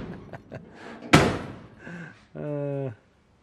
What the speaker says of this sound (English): Now I can actually open both doors.